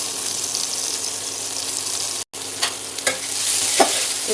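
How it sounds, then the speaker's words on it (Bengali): Chopped onion and chili sizzle and fry steadily in hot oil and ghee, with a brief pause and occasional stirring scrapes, close and loud with no talking. "এবার আমি গরম তেলে দিয়ে দিচ্ছি পেঁয়াজ কুচি আর দিয়ে দিলাম মরিচ কুচি।"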